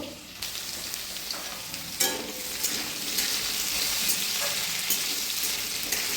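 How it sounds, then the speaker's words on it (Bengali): Potatoes sizzle steadily in a hot pan, a continuous crackling fry with occasional stirring scrapes and no voices. "আলুগুলো ভালো করে ভাজা হয়ে গেছে"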